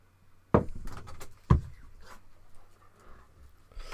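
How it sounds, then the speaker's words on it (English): A dog pushes open an interior door during an indoor holiday party: two sharp knocks of the door about a second apart, close and fairly loud, followed by quiet room noise with no talk. "That was the dog opening the door."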